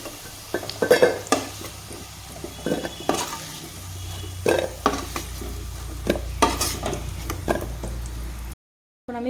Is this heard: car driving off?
no